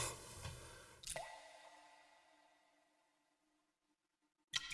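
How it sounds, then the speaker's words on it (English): Water drips in a tabletop game scene, with a loud wet splash followed by a long fading ring and near silence before another sudden splash at the end. "A waterfall gushes out of a wall."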